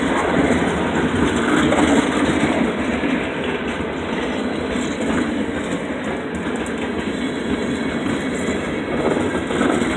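A short freight train hauling tank cars rolls past on a line between Danville Junction and Waterville, Maine, a loud continuous rumble with steady wheel clatter throughout and no talk.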